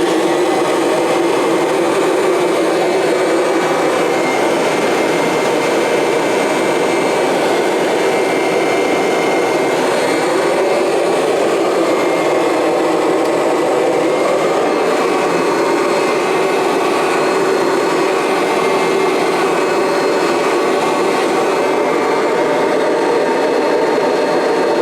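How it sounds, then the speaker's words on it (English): A Kirby vacuum cleaner runs continuously and loudly with a steady motor whine, a faint high-pitched tone riding above it, holding the same level throughout without speech. "So that was the machine running."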